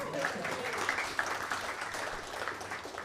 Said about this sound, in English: So clap for Ben, just for that.